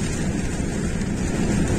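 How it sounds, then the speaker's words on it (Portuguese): Strong wind blowing outdoors in a snowy setting, a steady, loud roar buffeting the microphone with no breaks and no talk. "Tá ventando muito"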